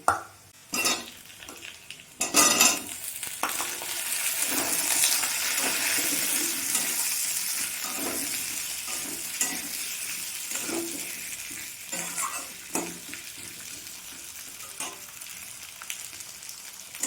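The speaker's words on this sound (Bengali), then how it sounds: "পেঁয়াজের সাথে আলুটা আমি একটু নাড়াচাড়া করে নেব" Potatoes fry with onions in a pan, a steady crackling sizzle broken by repeated scrapes and clinks of a spatula stirring against the pan, close and ongoing without speech.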